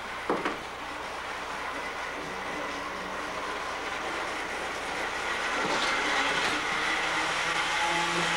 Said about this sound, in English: How's that train getting by me right now?